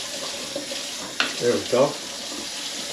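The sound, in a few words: water running from tap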